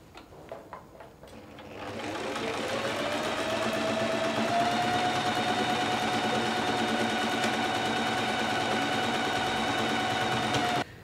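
A sewing machine stitches buttonholes on a summer dress, running as a close, steady mechanical whir that starts after a few quiet seconds, holds an even pitch and stops abruptly near the end.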